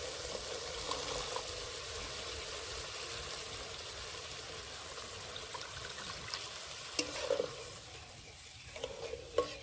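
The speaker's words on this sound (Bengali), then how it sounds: "এবার জল দিয়ে দেবো অল্প করে জল দেবো" Water poured into a pan of frying egg curry with coriander leaves, a soft steady sizzle with stirring and a few louder splashes and scrapes toward the end, fairly faint and close.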